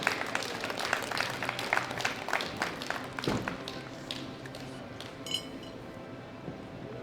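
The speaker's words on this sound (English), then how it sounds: "Give them a round of applause for the best three results in the bench press sub-juniors up to 105 kilograms." Applause from the crowd at a world classic powerlifting championship, fairly faint and scattered, with light clinks near the end and a few louder claps fading out.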